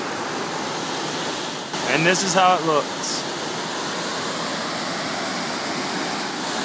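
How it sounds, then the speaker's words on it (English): Salto Rey Pucura, a waterfall in Chile with granite walls beside it, gives a steady, dense roar of falling water throughout, with someone speaking briefly over it. "We're at the waterfall Rey Pucura, or Salto Rey Pucura"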